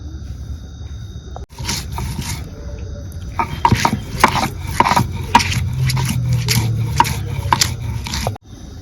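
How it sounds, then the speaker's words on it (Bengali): Rhythmic rough grinding and scraping of green chilies on a grinding stone, steady strokes over a low rumble, close and fairly loud, with no talking. "এখন আমি কাঁচামরিচ বাইটে নেব।"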